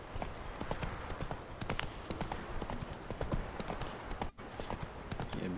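A horse's hooves clip-clop steadily at a walking pace in The Witcher 3 video game. The hoofbeats are continuous and close, with a loud ambient background and one brief dropout near the end.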